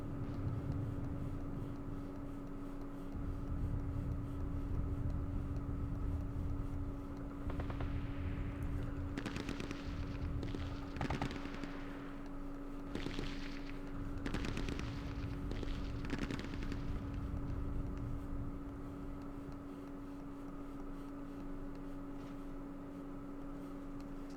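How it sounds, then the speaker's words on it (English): Artillery barrage at Dien Bien Phu in the Vietnam war game Campaign Series Vietnam: a cluster of sharp impacts and bursting shells over several seconds, set against a steady low drone. "Let's call in our artillery again."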